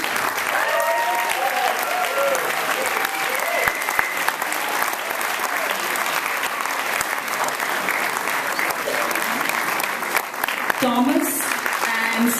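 A concert audience at Stein Auditorium in New Delhi claps loudly and steadily throughout, with some faint musical tones under the applause near the start and a few voices rising near the end.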